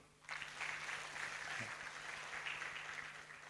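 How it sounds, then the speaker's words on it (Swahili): A seated audience claps at a women's leadership summit and gala, a steady wash of applause heard from a distance that holds evenly for several seconds before easing slightly. "tujipigie makofi"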